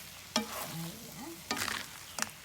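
Valenciana rice being stirred and mixed in a pan, three distinct scraping clatters against a faint low sizzle, with quiet gaps between them.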